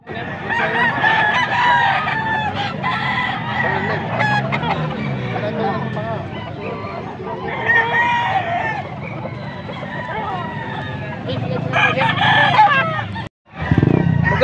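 Roosters crow again and again at a bustling chicken market in Bocaue, and hens cluck close by. People chatter and bargain throughout, under a steady crowd murmur.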